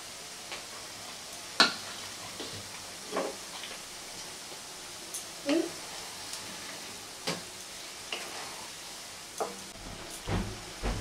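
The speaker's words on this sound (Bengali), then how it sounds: "অল্প অল্প করে দিয়ে ভেজে নেব।" Small Bengali nikuti sweets fry in hot oil in a wok, a faint, low crackle with a few scattered sharper pops and stirring knocks, steady and quiet with no talk.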